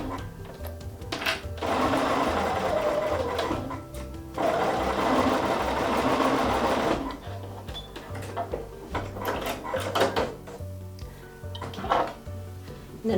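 A sewing machine stitches quilt pieces together for a sampler quilt in loud, close bursts of rapid needle clatter, each several seconds long, separated by short pauses and small handling clicks.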